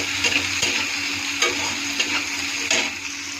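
Onions, tomato and green chilli fry in a pan, a steady sizzle under repeated scraping strokes of a spoon stirring, with no talk.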